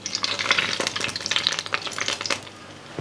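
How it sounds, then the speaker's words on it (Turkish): Burnt butter spatters and crackles over a pan of şorbik, a Tunceli dish, in a close, busy sizzle of dense popping that carries on for a few seconds before easing off. "Son olarak yemeğimizin üzerine bir yemek kaşığı tereyağını yaktık."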